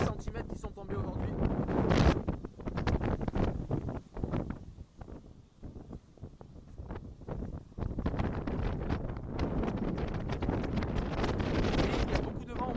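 Strong wind gusts roar across a snowy mountain summit, Mont Aigoual, with blasts reaching about 140 km/h; a continuous loud buffeting rushes against the microphone, surging and easing in waves.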